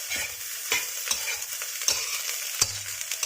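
A spatula scrapes and stirs through fried rice with salted fish in a hot pan, with rhythmic clanks over a continuous sizzle and no voices.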